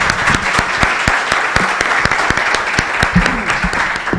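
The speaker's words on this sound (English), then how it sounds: "Round of applause for them." Loud, close audience applause for a student group after their pitch at an invention competition, many hands clapping in a dense, steady wash with a few sharp near claps standing out for over four seconds.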